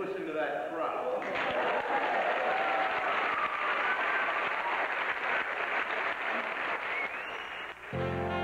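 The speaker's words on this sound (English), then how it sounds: "And listen to that crowd." A large audience at Lucy Fest, the 1991 Lucille Ball celebration in Jamestown, applauds and cheers loudly and steadily for about eight seconds, with voices mixed in, before the clapping cuts off sharply near the end.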